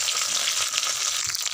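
Black mustard seeds, a whole dried red chilli and curry leaves fry in hot mustard oil with a dense, crackling sizzle. The sizzle stays close and steady for a short stretch, with no talking.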